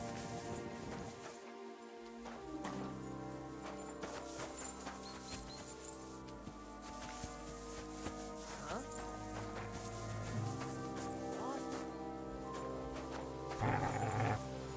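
A dog growls in the medieval role-playing video game Kingdom Come: Deliverance 2, low and intermittent beneath background game music and ambient sound.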